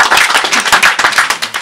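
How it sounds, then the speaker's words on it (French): Audience applause after a footbridge is presented at a community event, a dense patter of many hands clapping steadily and fairly loud for under two seconds. "Et je pense qu'on peut les applaudir bien fort."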